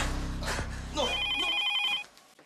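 A telephone rings with an incoming call at a hospital, a bright electronic trill sounding for about a second after a loud voice, then fading out.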